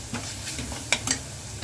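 Masala frying in hot oil in a pan for kantoli bhaji, a soft steady sizzle with brief stirring scrapes, close and fairly quiet.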